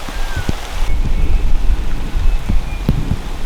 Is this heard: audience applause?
no